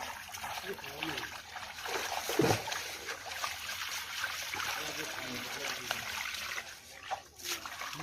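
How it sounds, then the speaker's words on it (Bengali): Freshly caught fish being washed in pond water outdoors, irregular splashing and trickling with one sharper splash, while voices talk faintly nearby. "পুকুরের মধ্যে ধোয়া হবে এরকম মাছগুলো ধোয়া হচ্ছে"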